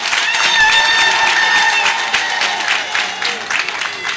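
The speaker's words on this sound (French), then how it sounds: "que je vous demande d'applaudir très fort" Loud, sustained applause from a large crowd at a prayer gathering in Parakou, Benin, dense clapping with cheering and voices mixed in, steady throughout.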